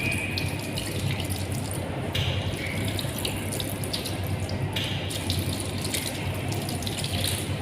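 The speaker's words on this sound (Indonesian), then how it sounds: "Kemudian dibilas menggunakan air mengalir." Tap water runs steadily into a sink, a constant splashing gush with brief shifts as hands move under the stream; no one speaks.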